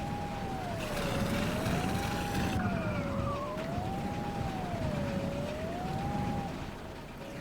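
A police car siren in The Long Drive video game wails in slow, rising and falling sweeps over a constant rumble of engine and road noise, steady and fairly loud with no talking.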